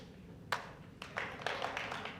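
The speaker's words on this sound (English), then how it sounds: "why don't you clap your hands?" Scattered audience members clap their hands at a talk, starting with one sharp clap and then swelling into a light, uneven patter of a few people applauding for about a second.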